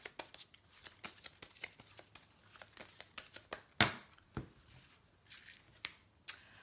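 Tarot-style spiritual guidance cards are shuffled by hand, producing a scattered series of soft papery flicks and slaps with one sharper snap midway, close up and quiet, with no talking.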